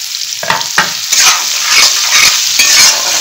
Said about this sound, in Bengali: খুব ভালো করে লাল লাল করে ভেজে নেব